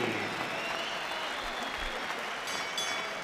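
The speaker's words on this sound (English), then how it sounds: "they both deserve a round of applause" A boxing arena crowd applauding both cruiserweights, Enzo Maccarinelli and Mark Hobson, after twelve rounds. The clapping is dense and sustained, with crowd noise beneath it throughout.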